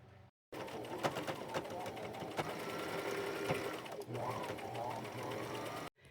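A sewing machine whirs steadily up close in a continuous mechanical buzz, briefly dipping and resuming, then stopping abruptly.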